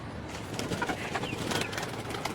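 Domestic pigeons, a racer among them, coo from a home loft in Bangladesh, soft throaty calls repeating over a steady low murmur, fairly close, with no voices.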